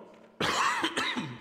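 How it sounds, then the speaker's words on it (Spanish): A single harsh cough bursts out after a short quiet lead-in, close and loud, followed by a brief throat-clearing rasp as the person recovers. "Todavía tengo algo de tos"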